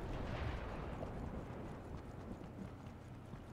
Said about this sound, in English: I used 4 of the airstrike markers on them